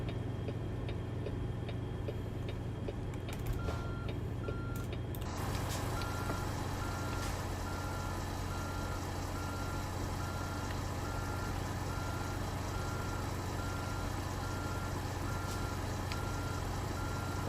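Intermittent reversing beeps from a truck in American Truck Simulator, steady repeated tones over a constant low engine drone, moderately loud and continuous with no talk.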